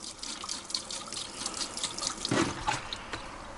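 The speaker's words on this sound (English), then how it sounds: "So pour a little bit in the traps" RV antifreeze poured into a sink drain trap while winterizing a 2020 Rockwood Ultra Lite 2906RS trailer, a close liquid splash and gurgle that swells briefly near the middle, with no one talking.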